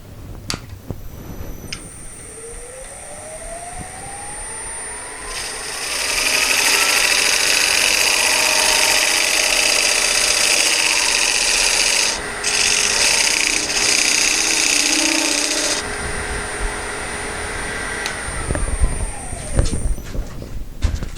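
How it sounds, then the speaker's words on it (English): A square steel scraper cutting a recess into a wooden bowl on a woodturning lathe, the lathe's steady hum rising as the tool bites in for about ten seconds of loud scraping before easing off. "I have a square scraper that I cut a notch in the side that I can use that matches the dovetails on my jaw."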